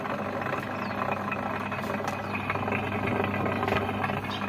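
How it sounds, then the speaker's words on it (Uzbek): A washing machine motor runs steadily during a repair, draining its water, giving a continuous mid-pitched hum with a faint rattling vibration throughout, no voices. "Motor ishlayapti. Mana suvni to'kib beradi."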